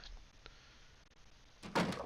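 Door opening in the survival game The Long Dark, a quiet stretch of faint ambience followed by a sudden wooden thunk and creaky rush near the end, close and moderately loud.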